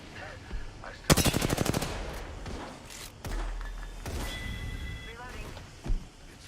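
Video game gunfire in a battle-royale match, a rapid close machine-gun burst followed by scattered thuds, single shots and game effects, with a voice talking intermittently over it.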